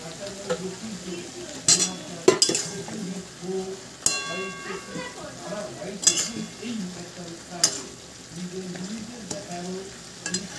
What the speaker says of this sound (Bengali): মাংসটাকে আমি ভালো করে কষিয়ে নেব